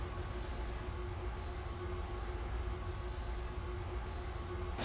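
R142A subway train on a Manhattan-bound 5 local in the OpenBVE simulator, a steady low rumble of wheels and motors with a faint whine running evenly throughout, rising slightly at the very end.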